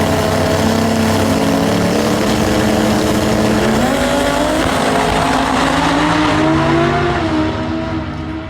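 Drag racing car launching down a quarter-mile track, a loud, close engine roar with rising pitch and harsh racing-engine texture that holds nearly the whole run, then eases slightly at the end, with no talking.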